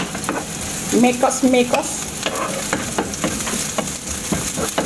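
Onion sizzles in hot oil in a pan, a steady crackling fry with a few stirring scrapes, while a voice speaks briefly over it.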